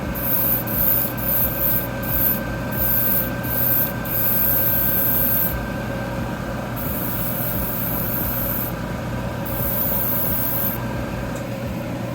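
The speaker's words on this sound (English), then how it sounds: "there's really no wrong way to paint with an airbrush" An airbrush sprays paint onto model kit parts in short and longer bursts of close, hissing air, over a steady compressor hum.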